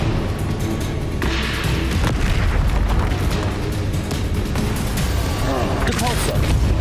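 Spell effects from Hogwarts Legacy on Nintendo Switch: a dense, continuous roar of bursting, booming combat sound fills the whole stretch, loud and sustained, with no clear single blast standing apart.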